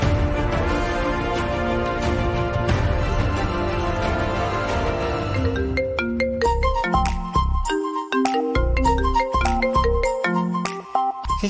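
A phone rings unanswered with a repeating electronic melody. A dense tonal passage gives way to sharper, spaced chiming notes that go on for several seconds.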